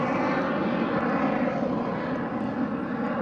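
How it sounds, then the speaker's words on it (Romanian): Steady, loud roar of a supersonic military jet passing over an airshow at Băneasa airport, a broad continuous engine rumble with no break. "Pentru că este un avion supersonic în acest moment."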